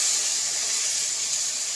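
Water hits a hot pan of spiced potatoes, producing a loud, steady steam hiss that stays broad and even for its short length, close up with no voices.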